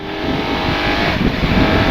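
A 2023 KTM 1290 Super Adventure S motorcycle engine pulls hard under acceleration, a loud, steady broadband roar with rising revs throughout, up close and without talk.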